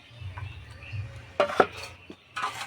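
A lid lifted off a cooking pot of bitter gourd: a low simmering hum, then a sharp cluster of metallic clinks and clatter, followed by a few lighter knocks.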